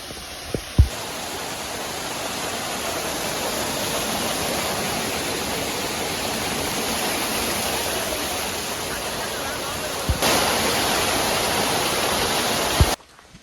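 Mettuguda waterfall pours in a steady, close, full-bodied roar that hardly changes for the whole stretch, with a couple of brief knocks near the start and end.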